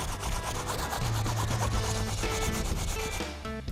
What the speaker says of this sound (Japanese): デコボコ具合に合わせて120番から1000番ぐらいまでサンドペーパーの番手を上げていき、手で触って気にならないぐらいまで仕上げる。